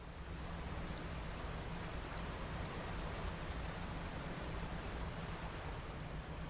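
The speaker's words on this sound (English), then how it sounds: "Overly aggressive water spouts." Water spouts churn in the fishing video game Dredge, a faint, steady rushing and hissing of water that holds unbroken for several seconds, with no voices.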